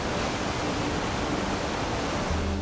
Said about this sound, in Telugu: పచ్చని చెట్ల మధ్య రాళ్ల మీదుగా జారి పడుతూ కిందకి వచ్చే ఈ జలపాతం ఒక మెస్మరైజింగ్ సీన్.